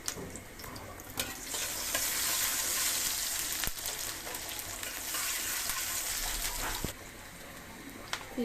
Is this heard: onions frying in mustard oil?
yes